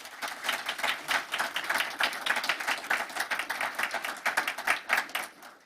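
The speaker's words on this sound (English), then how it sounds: "please, a round of applause for all of our leaders who have made this possible" A modest audience at a nursing partnership celebration applauds its leaders, with steady, fairly close clapping that keeps an even pace and tapers slightly at the end.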